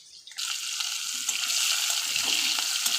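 Tomato goes into a hot pan with fried katla fish, setting off a sudden, loud, continuous sizzle that holds steady for a few seconds with small crackles.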